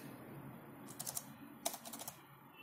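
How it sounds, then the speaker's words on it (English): Typing a sentence in Notepad on a computer keyboard: a few quick clusters of close, crisp key clicks separated by short pauses, soft against a faint room hum. "in the notepad, we will type one sentence"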